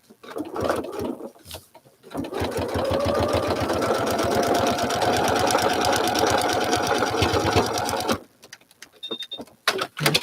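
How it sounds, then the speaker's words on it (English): Sewing machine stitching a paper-pieced quilt seam, a steady rapid mechanical whir lasting about six seconds, with a few short bursts before it and quiet handling afterward. "Now I'm sewing on the line between 15 and 16."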